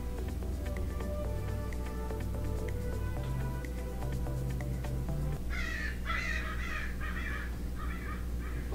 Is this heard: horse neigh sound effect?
no